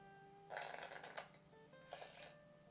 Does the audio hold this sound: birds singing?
no